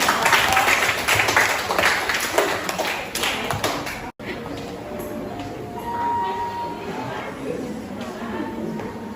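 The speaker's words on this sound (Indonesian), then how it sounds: "Kita beri tepuk tangan." Classroom applause at the close of a teaching session on blood circulation, dense clapping for about four seconds that thins into scattered claps and murmuring voices.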